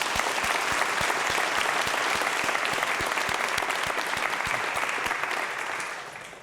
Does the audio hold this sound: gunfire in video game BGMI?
no